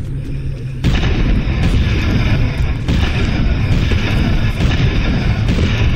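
Gunfire in the video game Lone Survivor as a corpse is shot, a series of heavy, booming shots spaced about a second apart, loud and close.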